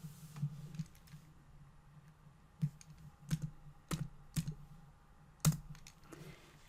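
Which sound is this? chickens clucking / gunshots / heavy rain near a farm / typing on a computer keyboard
typing on a computer keyboard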